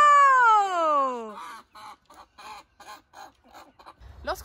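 A hen being caught gives a long drawn-out squawk, then a rapid run of short clucks close by, ending with a rustle.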